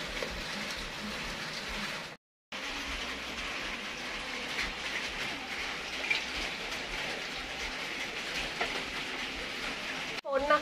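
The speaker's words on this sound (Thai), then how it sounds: "ฝนนะคะอยู่ด้านนอกฝนตกพรำๆนะ" Light rain falls outside as a steady, soft hiss of drizzle lasting throughout, with a brief dropout partway and a small clatter near the end, and no voices.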